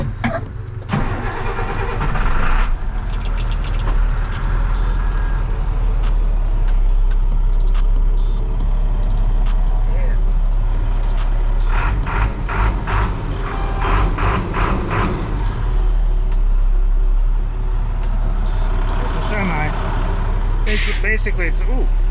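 A school bus converted into a tow rig idles while warming up, its engine a steady low rumble close by, with a person talking over it much of the time.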